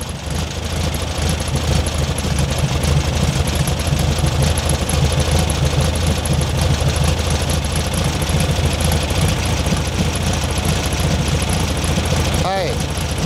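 Air-cooled VW Beetle engine running at a steady, loud idle and rising in revs during tune-up work on points gap, ignition timing and carburetor, a continuous close mechanical drone with speech over it.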